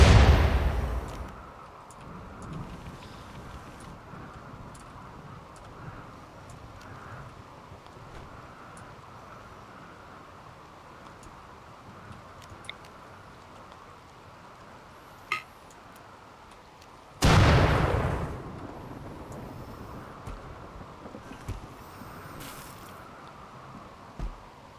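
Mortar fire in the video game RimWorld: two heavy booms, one at the start and one later, stand out over a steady bed of in-game ambience.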